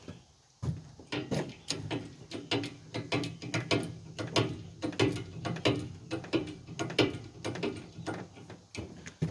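A TH400 transmission being pulled from a 1968 Chevrolet C10, giving a steady run of close metallic clicks and ratcheting knocks with a low mechanical rumble beneath for the whole stretch.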